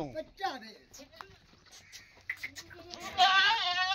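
A male goat lets out a wavering bleat near the end, loud and close, after a stretch of people talking and scattered rustling at a livestock market.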